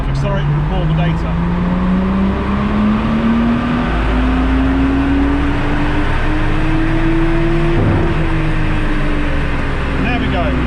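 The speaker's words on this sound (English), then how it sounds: "I'm going to hit load on the dyno, and I can go full throttle, and the dyno will hold me, and then I will ramp up" A Nissan Skyline, tuned through a Link G4+ ECU, runs at full throttle on a dyno, its engine note climbing steadily in pitch as revs build, loud and continuous with a brief dip near the end.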